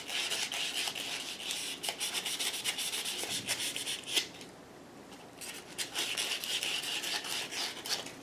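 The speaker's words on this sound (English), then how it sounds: "you run that through a wire wheel or just some sandpaper, and that cleans it off" Sandpaper rubbing dried glue off a woodworking glue-up jig, a series of close, scratchy strokes in an uneven rhythm with a brief pause midway.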